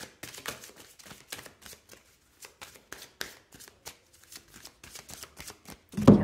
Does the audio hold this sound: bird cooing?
no